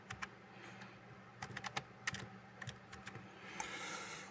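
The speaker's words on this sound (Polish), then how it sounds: "Muszę wpisać hasło." Fingers type a password on a computer keyboard, with quiet bursts of close key clicks in uneven clusters over a faint room hum and no speech.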